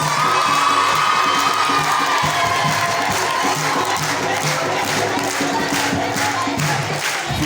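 A large crowd of schoolchildren cheers and shouts for a prize winner at an award ceremony for a dictation and mathematics competition, a loud, continuous roar of whoops and yells with no speech.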